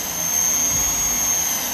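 Steady high whine and roar of the electric propulsion on a 3D-printed VTOL trainer RC model aircraft upscaled to 120%, hovering in flight at its maiden outing, loud and continuous with no talking.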